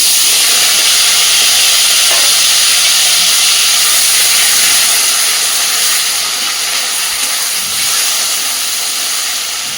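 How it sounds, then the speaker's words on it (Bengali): Chopped onion, tomato and green chili sizzle in hot oil for a Bengali chicken kosha, a loud, steady frying hiss that holds throughout and eases slightly toward the end, with no voices. "এই তেলে এবার আমি দিয়ে দিচ্ছি পেঁয়াজ, টমেটো আর কাঁচা লঙ্কা কুচি।"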